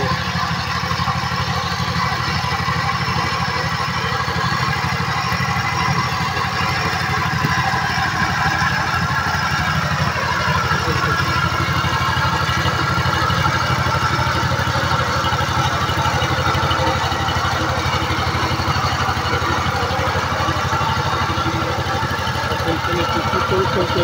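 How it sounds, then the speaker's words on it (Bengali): A power tiller engine running while ploughing a field, a steady mid-pitched drone and chug that holds unchanged for the whole stretch, close and loud, with a person speaking over it. "এই ছেলেটি অনেক কষ্ট করে পাওয়ার টিলার দিয়ে চাষ করছে"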